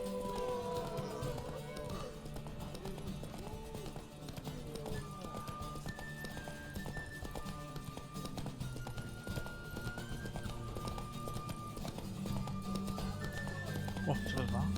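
Horse hooves clip-clop at a steady galloping rhythm in the fantasy video game The Witcher 3: Wild Hunt, with occasional whinnies, under almost continuous speech and background music.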